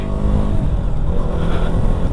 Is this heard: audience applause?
no